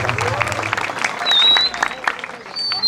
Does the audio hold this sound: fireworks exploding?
no